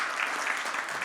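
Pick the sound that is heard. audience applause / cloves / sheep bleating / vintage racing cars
audience applause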